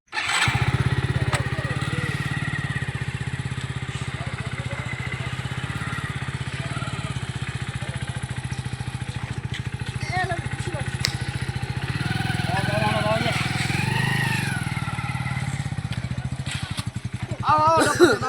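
A motorcycle engine runs steadily at close range with a low, throbbing drone that holds throughout, while voices talk over it.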